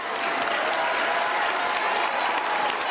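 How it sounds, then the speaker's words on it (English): Crowd applause at a basketball game in the BOS Center, a steady wash of clapping from many hands, close and continuous for the whole stretch. "Gets a hand from the crowd here at the BOS Center"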